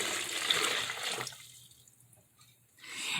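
Warm water pours into a bowl, about four and a half cups, a steady splashing gush that stops partway through, leaving a quiet gap before another brief splash near the end.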